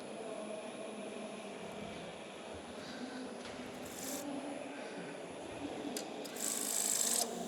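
A 1/4-inch woodworking tool steadily removes the bulk of a piece of timber, giving a continuous close rasping, scraping sound that grows slightly louder toward the end, with no talking.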